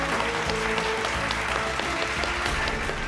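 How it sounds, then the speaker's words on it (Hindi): A room of people at a bachelor party claps steadily, a dense and continuous applause that stays loud for the full three seconds with music faintly underneath. "तालियां।"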